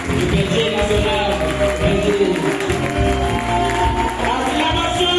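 A church seminar audience applauds and cheers the national shepherd with continuous clapping, cheers and music blended into a loud, steady roar.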